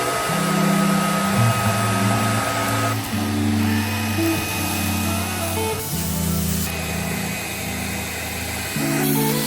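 Hot air dryer blowing on a kitchen surface during a makeover, a loud continuous whirring blower hum whose pitch steps up and down several times as it moves along from the edge.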